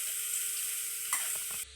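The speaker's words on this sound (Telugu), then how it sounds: "నేతిలో కాస్త వేయించుకోవాలండి" Grated carrots frying in hot ghee for carrot halwa, a dense continuous sizzle with a few brief stirring scrapes near the end, close and steady, no voices.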